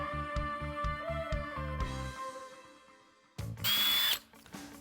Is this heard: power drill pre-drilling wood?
yes